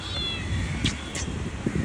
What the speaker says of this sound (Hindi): बहुत ज़्यादा बिल्लियाँ भाई इस एरिया में